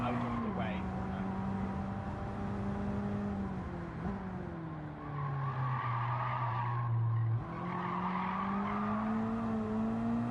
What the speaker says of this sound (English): That drift did not go up to plan.